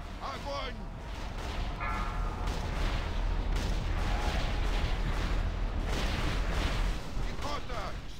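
Continuous booming cannon fire on a ship under fire in a video game rolls and thunders loudly, with shouted voices breaking through the barrage.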